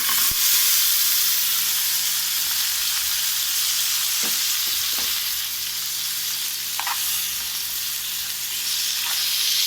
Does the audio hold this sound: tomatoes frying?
yes